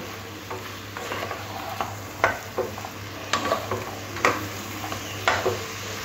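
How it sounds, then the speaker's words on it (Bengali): Sliced bottle gourd is stirred with spices in a pan, giving a soft sizzle under a string of scraping spatula strokes and light clinks against the pan at a fairly even pace, with a steady low hum in the background. "আর আস্তে আস্তে করে লাউটাও মশলার সাথে মিশিয়ে নিতে হবে।"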